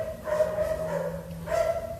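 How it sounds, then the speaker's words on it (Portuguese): A dog barks and yips in three short, separated bursts over a steady low hum, moderately loud and close. "O cachorro fica aqui, ó. Latindo."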